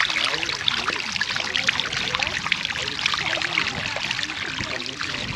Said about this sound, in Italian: Vedete qui c'è tutto lo scarico dell'acqua sulfurea